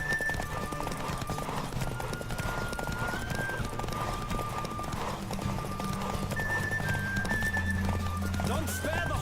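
Roach the horse gallops hard during a race in The Witcher 3: Wild Hunt, steady rapid hoofbeats drumming over game music with a neigh or two, while a voice talks over the run.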